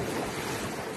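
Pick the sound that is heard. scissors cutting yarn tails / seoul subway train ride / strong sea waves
strong sea waves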